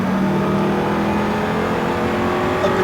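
An Audi R8 engine pulls hard under full throttle, a loud steady roar with a rising tone filling the whole stretch from inside the car, no voices over it.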